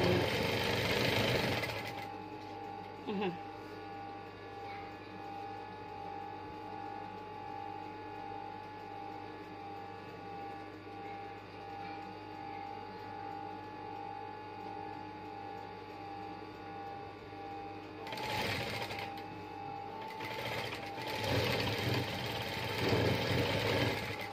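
A sewing machine stitches a chiffon-trimmed pillow, its motor humming steadily up close for several long seconds, with louder handling noises before and after.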